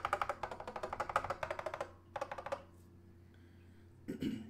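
Typing on a vintage Apple M0110 keyboard fitted with keycaps made for locking switches: a quick run of close, crisp key clacks, a brief pause, a shorter burst, then near silence before one last muffled knock.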